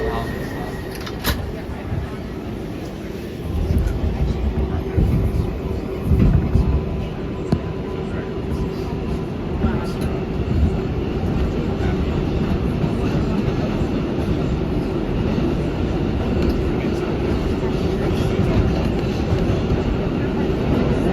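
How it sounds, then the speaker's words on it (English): An NYC Subway R142A 6 train bound for Brooklyn Bridge rolls along the rails with a loud, continuous rumble and rattle, and a voice is heard at times over the noise. "This is a Brooklyn Bridge bound 6th train."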